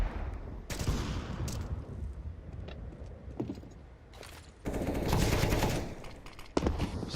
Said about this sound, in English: Solid double kill coming out of Joda